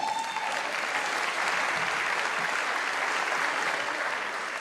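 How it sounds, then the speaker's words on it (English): Steady applause from an audience at a governor's State of the State and budget address, continuous clapping of moderate loudness held evenly for several seconds with no speech over it. "The people clapping are the ones who work there."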